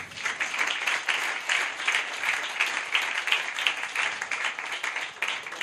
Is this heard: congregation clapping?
yes